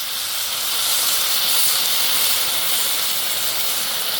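Stir-fry sauce pours slowly onto a hot Blackstone griddle for shrimp lo mein, giving a steady, loud, continuous bright sizzle and hiss with no talking.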